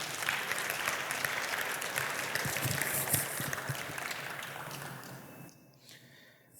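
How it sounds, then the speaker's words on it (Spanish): A church congregation claps steadily in a broad wash of applause that gradually fades out near the end. "Le damos un aplauso al Señor por esto."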